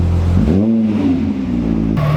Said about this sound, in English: We've got all the windows down for all the exhaust noise.